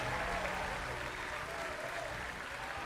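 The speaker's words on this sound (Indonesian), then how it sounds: "Beri tepuk tangan yang mulia untuk Bapak Prabowo Subianto." A concert crowd at a political campaign event applauds Prabowo Subianto, a broad, steady wash of clapping from a large audience that fades slightly over about three seconds.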